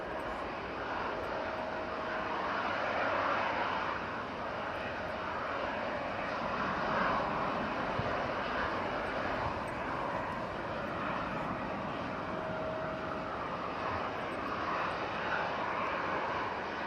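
Aircraft on its takeoff roll at Manchester Airport during Storm Amy, a steady broad jet roar held at a distance and unchanging for the whole stretch, with wind noise mixed in.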